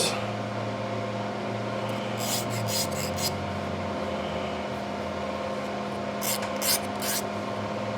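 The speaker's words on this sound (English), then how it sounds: "We're going to file that down real good there." A hand file works lightly over burrs on a GM Quad 4 2.4 twin cam engine part, soft rasping strokes coming in short bursts over a steady low background hum.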